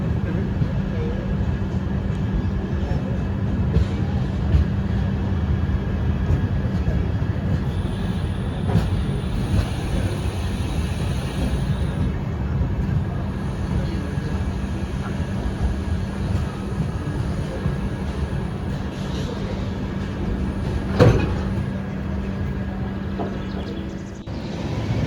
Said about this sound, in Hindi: तो चलिए दोस्तों, आप एंजॉय कीजिए केवड़िया पर ट्रेन का अराइवल।